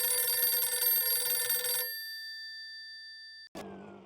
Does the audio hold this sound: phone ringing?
yes